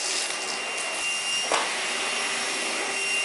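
A Henry Cordless HVB160 vacuum cleaner runs on carpet at its high setting, a close, steady broadband whoosh with a thin motor whine, a brief sucking rattle at one point as debris is picked up.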